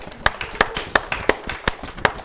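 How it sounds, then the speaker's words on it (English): An audience claps in an indoor talk setting, with a sparse, steady run of about seven distinct claps at a regular beat. Softer hand strikes fill the gaps, and the sound is near and modest rather than a full ovation. "So can everyone like give her a round of applause?"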